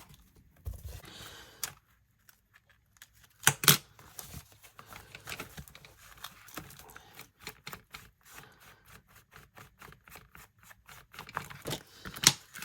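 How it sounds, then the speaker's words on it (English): Scissors fussy cut paper for a binder junk journal: scattered quiet snips, then a rapid run of crisp clicking cuts, close and soft, with pauses between bursts. "oh, I gotta fussy cut this."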